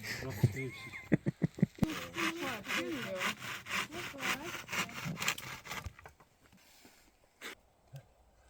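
A hand saw cuts through wood in the forest, rapid rhythmic rasping strokes close by that go on for about six seconds before stopping, with quiet rustling afterward.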